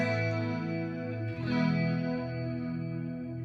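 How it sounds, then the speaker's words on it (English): Electric guitar chords shimmer with a thick, doubled, gently swirling chorus tone from vibrato blended with the dry signal, one chord changing to another partway through and ringing steadily. "get a chorus effect."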